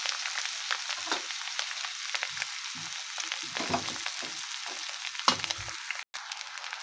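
Rice tossed into a hot pan with coriander leaves, frying with a bright steady sizzle and intermittent stirring scrapes, loud and close.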